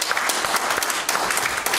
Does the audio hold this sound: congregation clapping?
yes